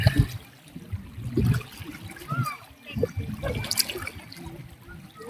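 Strong current of the Agos River rushing and splashing, steady broadband water noise with bursts of splatter close by, while people talk and laugh over it.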